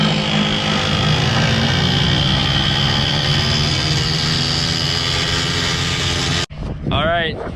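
A 1989 Chevrolet CK1500 truck engine revs hard with the parking brake on, a loud sustained roar that cuts off abruptly near the end, followed by a brief voice.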